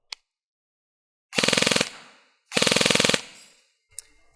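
Elite Force MP7 A1 AEG airsoft gun on full auto: two rapid-fire bursts of fast rattling gearbox cycling, each lasting roughly half a second or more, close by, with a lone click before and after.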